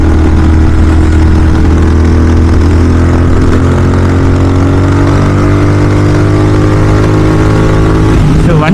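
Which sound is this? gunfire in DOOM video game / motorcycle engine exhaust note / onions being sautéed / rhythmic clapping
motorcycle engine exhaust note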